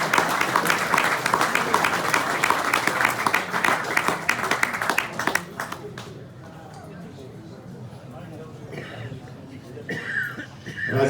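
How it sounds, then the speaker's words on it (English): Audience at a 1972 East Perth Royals football reunion breaking into loud, brisk clapping that fades out midway, leaving murmurs, a cough and some quiet chatter, with a short burst of clapping near the end. "Big round of applause."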